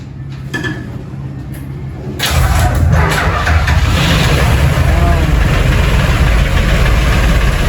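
A new fishing boat engine cranks and catches, then settles into a loud, steady low idle with a constant rumbling chug, heard close up.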